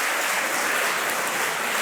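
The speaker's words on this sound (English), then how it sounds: "A round of applause to them." Audience at a regional school debate contest award ceremony applauds the runners-up, a loud, dense, continuous wash of clapping with no talking.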